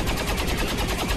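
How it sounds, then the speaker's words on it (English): A mech fires its cannon in the video game XCOM 2. The burst is loud, dense and rapid, like continuous gunfire filling the whole moment with no pause. "But I do get a cannon shot from Jacqueline."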